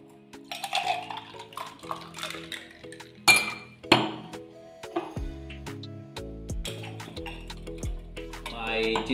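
Homemade ginger mocktail poured and moved into another glass, with clinks of glass and utensils and kitchen clatter close by, alongside background music and some voice.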